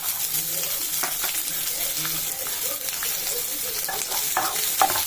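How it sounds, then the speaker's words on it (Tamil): Steady sizzling of onions frying in a pan, with occasional stirring scrapes, close and continuous throughout. "நல்லா சேர்த்து நல்லா வதக்கிக்கலாம்"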